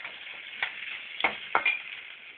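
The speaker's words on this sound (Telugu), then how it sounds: "బాగా మిక్స్ చేసి" Vegetables for sabji upma stirred in a hot pan, a thin steady sizzle with three or four scraping strokes of the spoon, close and unaccompanied by speech.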